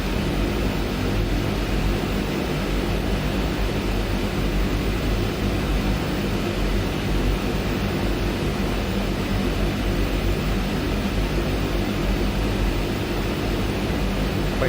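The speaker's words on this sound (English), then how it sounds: "Plane taxis fairly nicely." Twin Otter DH6 turboprop airplane taxiing in the MSFS 2020 flight simulator, a steady, loud broadband engine and propeller drone that holds evenly throughout with no talking.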